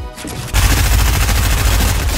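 Rapid, loud gunfire erupts in a Fortnite match after a brief quieter moment, a dense burst of shots that keeps going without pause.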